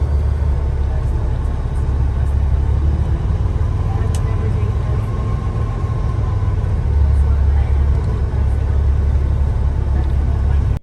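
Riding a hotel shuttle bus in Orlando: a steady, loud low engine and road rumble fills the cabin without a break, with faint rattles on top.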